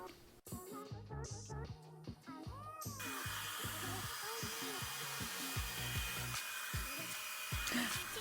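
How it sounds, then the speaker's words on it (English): A hair dryer fitted with a diffuser blows on curly hair. Its constant, close whooshing roar starts a few seconds in and continues steadily after earlier voice-like tonal sounds. "literally it takes me forever to blow dry and diffuse my hair"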